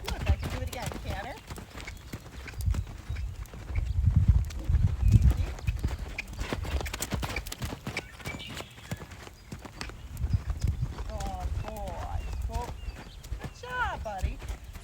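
A gaited horse being trained to canter sends out rhythmic hoofbeats on soft ground, moderately close, while a trainer talks over them throughout.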